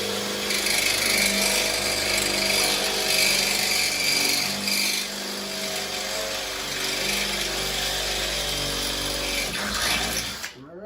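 A loud power drill runs continuously, boring mounting holes in a Porter Cable 8000 watt generator, with brief dips in speed before it winds down at the end.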